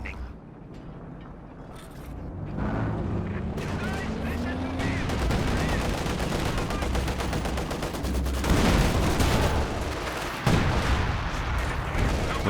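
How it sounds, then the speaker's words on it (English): A Brummbär fires its bunker-busting barrage in a Company of Heroes 2v2 tournament match. Heavy booming shots and rumbling blasts sit within a thick, continuous wash of gunfire and battle noise. "Bear using the bunker busting barrage, trying to clear out that Zis"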